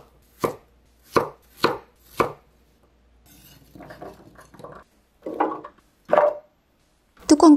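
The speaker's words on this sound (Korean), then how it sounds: "빨간 파프리카는 네모 모양으로 자르시고요." A knife chops red bell pepper into squares and carrots into small pieces on a cutting board, with four sharp, evenly spaced chops close up, then softer scattered cutting and a few louder knocks, with no talking.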